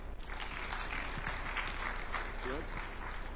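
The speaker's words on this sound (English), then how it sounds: "Let's give them a big applause." Audience applause for youth participants at the closing ceremony of Uganda Water & Environment Week, a steady wash of clapping from a crowd that holds throughout, with voices mixed in underneath.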